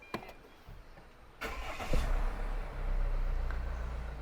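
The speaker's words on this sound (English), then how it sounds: "make sure to press the brake pedal and then start your engine." A car with automatic transmission starts up after a few faint clicks, its engine cranking and catching, then settling into a steady low idle close by.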